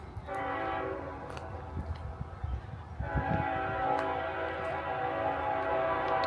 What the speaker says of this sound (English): As you can hear the train coming by.